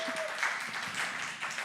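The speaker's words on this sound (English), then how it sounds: "a huge round of applause here in the building" Congregation applauding inside the building during a Shabbat service, a steady dense wash of clapping that holds at an even level for its whole length without any talk over it.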